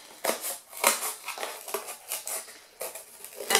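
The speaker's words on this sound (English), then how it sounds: "Not pen, scissors, and cut around the middle." Scissors snip repeatedly through crinkly tinsel, a quick irregular series of close crisp cuts and rustles.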